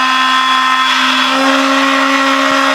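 An Atomberg mixer grinder with a BLDC motor runs at a steady, loud whine with a constant hum beneath, heard close and alone for the whole stretch.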